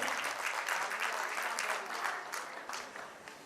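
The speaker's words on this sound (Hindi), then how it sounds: "एक बार तालियां डॉक्टर सुरेश जी गुप्ता जी के लिए जोरदार" Warm, sustained applause from a seated audience at an open-mic family event greets a doctor taking the microphone, dense and even before tapering slightly at the close.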